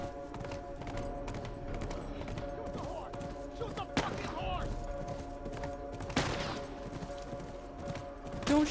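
Gunfire in a video game where horses are being shot, heard as sharp bursts around the 4 and 6 second marks over busy game noise, hoofbeats and talk.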